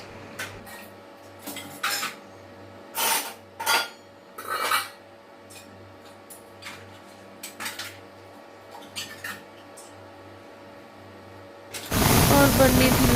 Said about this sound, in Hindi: फिर सारे बर्तन को मैं जो जहाँ के हैं वहाँ शिफ्ट कर दी